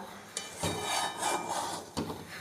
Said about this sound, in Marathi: उकळायला लागल्यावर आपण हलवून घेऊया